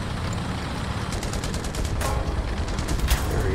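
Gunfire in War Thunder ground realistic battles, around a Pz.III E tank: a constant low rumble with scattered sharp shots cracking through, a few louder reports near the end, with no talk.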